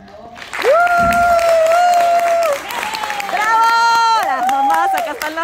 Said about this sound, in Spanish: Por favor, dale un aplauso de nuevo.